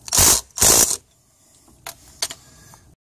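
Ratchet wrench loosening the upper caliper pin bolt on a Toyota Camry during a brake hose replacement, two loud close clicking bursts followed by a few faint metallic taps.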